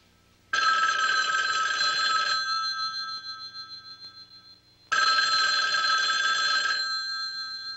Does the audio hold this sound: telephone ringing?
yes